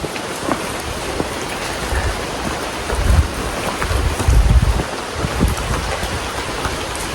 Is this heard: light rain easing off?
yes